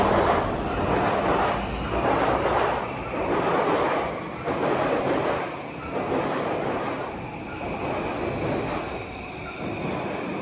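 A train rumbles past close by in a Tokyo neighbourhood between two train lines, a loud continuous roar that swells and eases in a slow rhythm as the cars go by.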